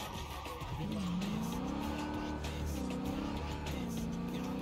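Cars driving in the Cyberpunk 2077 video game, with a steady engine roar and wavering tire squeal or skid tones over continuous road noise, loud and unbroken.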